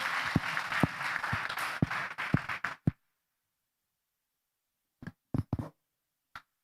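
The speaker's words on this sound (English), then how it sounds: "A round of applause." An audience applauds at an investor demo day, with a burst of dense clapping and a few louder single claps that stop abruptly, then a handful of scattered claps later.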